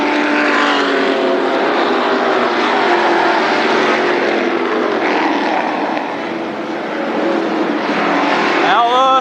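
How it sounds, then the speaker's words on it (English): Sprint cars and late models race at Berlin Raceway on closing night, a loud continuous roar of several engines passing and droning around the track, with speech faintly mixed in. "right now we're watching fantastic auto racing"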